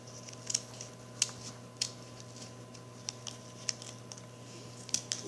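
Scissors snipping through folded paper to cut a snowflake, a series of faint, sharp, irregular clicks and snips, close but quiet over a low steady hum.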